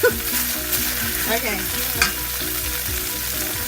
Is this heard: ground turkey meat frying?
yes